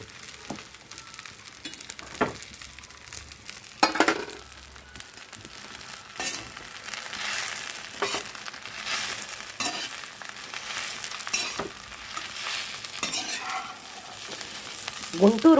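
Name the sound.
tamarind being stirred in pan for gongura pickle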